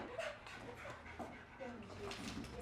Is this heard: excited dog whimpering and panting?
yes